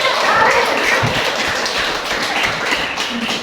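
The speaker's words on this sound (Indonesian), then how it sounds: "Ya, tepuk tangan buat semua." A classroom group applauds everyone, producing a dense, continuous patter of clapping and tapping at fairly high volume, with some voices mixed in underneath.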